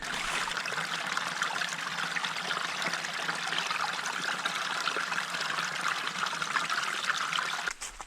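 Spring water trickles steadily at Hiner Spring in the Ramsey's Draft Wilderness, a continuous close, bright splashing flow that stays even throughout with no voices.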